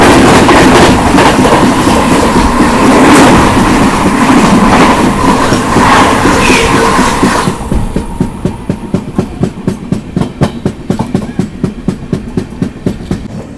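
The Banaras–New Delhi Shiv Ganga Superfast Express roars past at close range, a loud sustained rumble that gives way to a fast, regular clickety-clack of wheels over rail joints as the coaches stream by.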